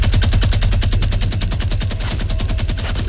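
Rapid automatic gunfire in the Fortnite video game, a loud unbroken burst of evenly spaced shots that rattles on for the whole three seconds with no talking.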